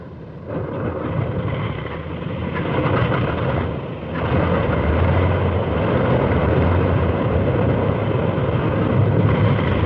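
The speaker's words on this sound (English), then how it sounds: "Aircraft leave the flight decks during extensive attacks that softened up the Central Pacific targets for amphibious" World War II carrier aircraft take off from a flight deck during Central Pacific strikes, giving a loud, continuous engine roar that dips briefly and then swells again, with no talk.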